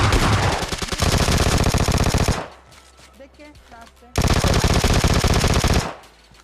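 Uzi and Vector submachine guns fire in PUBG Lite: two long, loud bursts of very rapid automatic fire with a quieter pause between them, close to the listener.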